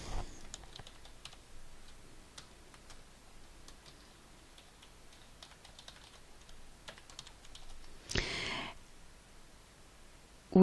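Typing on a computer keyboard: light, irregular key clicks run steadily at close range, with one louder burst of keystrokes near the end and no voices.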